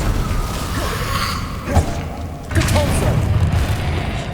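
Fire spell cast in the Hogwarts Legacy video game: a couple of dull booming bursts over continuous game ambience and clatter, moderately loud with soft thuds between.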